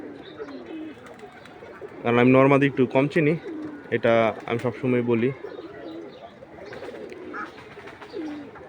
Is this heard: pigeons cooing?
yes